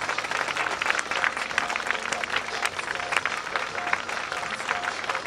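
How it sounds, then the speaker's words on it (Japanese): Applause from the audience welcoming three Sanfrecce Hiroshima Regina players onto a fan-event stage for a talk show, a steady dense clapping held at even loudness for several seconds, with a faint voice mixed in. "大きな拍手でお迎えください。"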